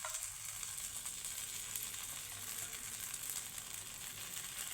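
Beaten egg sizzles steadily in a hot frying pan as it is poured in for egg chicken cheese balls, a constant close hiss with no talking.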